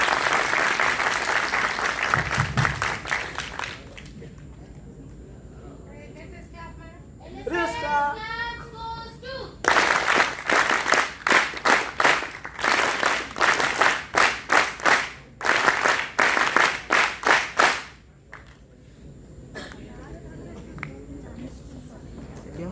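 An audience at a student NSS camp applauds after a poem recitation, with loud bursts of clapping in the middle and latter part, separated by quieter stretches of talking and background chatter.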